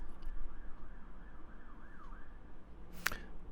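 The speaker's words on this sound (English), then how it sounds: "I love how there's a police car going past this at this point as well." A police car siren wails as it passes, a rising and falling tone sitting moderately in the background under a steady low rumble, with a brief sharp burst near the end.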